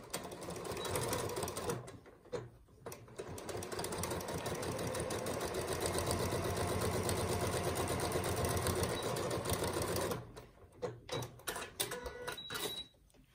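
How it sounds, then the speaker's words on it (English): A sewing machine runs a rapid, steady stitching rhythm while sewing elastic into a cotton face mask, close and continuous for about eight seconds, then slowing into short bursts and clicks. "I'm going to run my final stitch right along this line, a quarter inch in"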